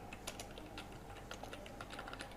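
Quiet, rapid typing on a computer keyboard, with a steady stream of light key clicks and a few slightly louder taps, close and alone.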